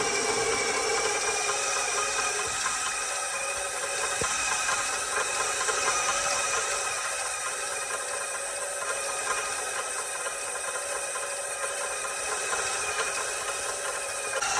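A stand mixer kneads sourdough bread dough at a raised, vigorous speed, giving a steady, loud motor whir with a rattling, knocking edge that runs continuously throughout without any talking.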